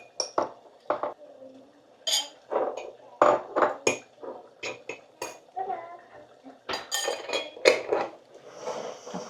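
Chili pickle spooned into a small, freshly wiped glass jar: repeated clinks and scrapes of a utensil against glass and dishes, close and fairly loud, in irregular bursts with no talking.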